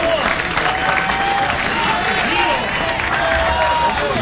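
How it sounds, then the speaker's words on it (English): At a sports event a large crowd roars with cheering and applause, a dense sustained wash of voices and clapping, and a commentator's voice can be heard over it. "You hear the crowd getting behind Kretzer"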